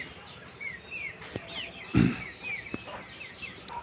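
Caged chickens cluck and chirp in scattered short calls, with a few soft knocks and one louder thump amid quiet farmyard ambience.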